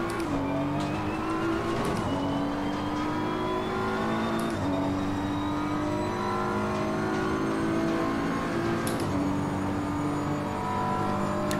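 A race car engine in Assetto Corsa Competizione drones loud and steady, rising in pitch through long pulls with a few gear shifts dropping the tone, constant and close throughout.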